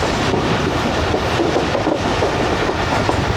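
Awam Express passenger train running through a station in the Potohar region of Pakistan, a steady loud rumble of rolling wagons with rhythmic clickety-clack over the rails, continuous and close.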